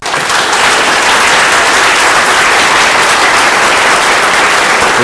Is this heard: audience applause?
yes